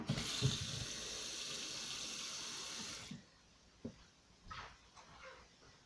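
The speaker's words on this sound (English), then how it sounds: "I'm going to add just a little water" Water pours steadily from a tap into a cooking pot for about three seconds, a loud rushing stream that then stops. Soft kitchen clatter and a dog's faint bark follow.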